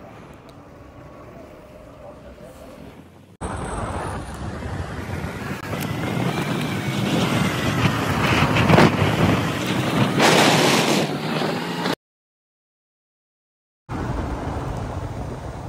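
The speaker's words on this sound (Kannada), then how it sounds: "ಮಳೆ ಸ್ಟಾರ್ಟ್ ಆಗೋಯಿತು." Heavy rain and gusting wind roar over a motorcycle on the Haveri–Ranibennur road in the evening, a loud broadband rush that swells steadily, cuts out briefly, then resumes.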